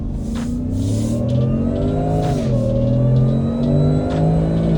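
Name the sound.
2023 Ford F150 Shelby truck accelerating onto highway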